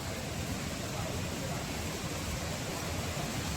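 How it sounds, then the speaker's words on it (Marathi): A forest waterfall near Tulshi village in Mandangad taluka, Konkan, roars as a constant broad rushing wash of falling water, steady and fairly loud with no breaks. "धबधबा"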